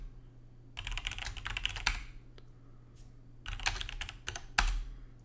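Keys tapped on a computer keyboard while a terminal command is entered, two bursts of close, quick clicking separated by a short pause, with no talking.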